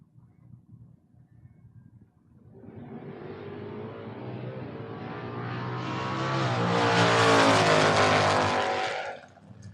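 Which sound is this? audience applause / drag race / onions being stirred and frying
drag race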